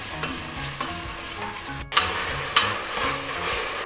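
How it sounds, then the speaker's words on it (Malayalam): Food sautéing in a hot pan with salt, stirred with a spoon in quick scraping strokes over a steady close sizzle, as the base for a beef curry. "എന്നിട്ട് ഇതൊന്ന് വഴറ്റി കൊടുക്കട്ടെ."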